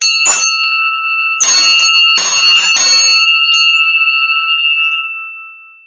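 A small bell rings several times in quick strikes, bright and close, then its tone hangs and slowly fades out.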